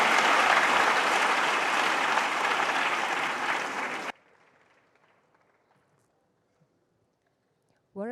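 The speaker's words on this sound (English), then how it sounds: "May we please give a big round of applause to the musicians from Mongolia." A festival audience at a Mongolian cultural event gives loud, sustained applause for the musicians from Mongolia, a dense wash of clapping that stops abruptly halfway, leaving near silence.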